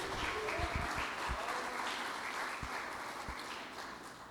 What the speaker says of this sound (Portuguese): irmãos, aplauda Jesus